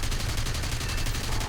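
Rapid bursts of aircraft cannon and machine-gun fire from a Messerschmitt Bf109G-2 fighter in the War Thunder combat game, a loud, dense rattling fusillade that pulses steadily without pause.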